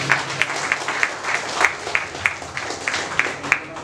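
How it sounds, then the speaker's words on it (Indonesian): Audience applause at an evening talk-show event, a spread of steady clapping with sharp repeated claps standing out, moderately loud and continuous throughout. "tepuk tangan hadirin yang berbahagia."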